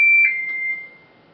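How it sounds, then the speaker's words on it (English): An oven's electronic beep signals it has reached 500 degrees, one steady high tone followed by fainter blips, clear and alone. "That sound is the oven telling me that it is at 500 degrees"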